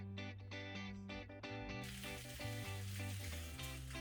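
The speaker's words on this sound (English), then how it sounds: "you see me roast my tomato and everything" Tomato roasting in a hot skillet for beef stew gives a steady close sizzle and crackle, with a droning tonal hum running throughout.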